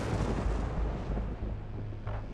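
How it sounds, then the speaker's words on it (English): Deep, rumbling thunder rolls on loudly at low pitch, with heavy booming swells and a renewed rumble near the end. "The thunder is loud."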